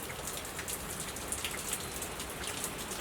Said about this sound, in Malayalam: ഇനിയിപ്പോൾ ഈ സമയത്ത് ഇങ്ങനെ ഇടയ്ക്കിടയ്ക്ക് ഇങ്ങനെ മഴ പെയ്തുകൊണ്ടിരിക്കും